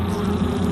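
Honey bees, a non-native species introduced for honey production, buzz continuously in a dense, close swarm with a steady low drone and no voices.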